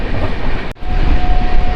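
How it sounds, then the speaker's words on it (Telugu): The 16088 Salem–Arakkonam Junction express train rolls past with a steady, loud rumble and rattle, broken by a brief dip near the middle, then a faint high tone rising over the continuing roar. "16088 సేలం నుంచి అరకోణం జంక్షన్ వరకు వెళ్ళి ఎక్స్ప్రెస్ ట్రైన్"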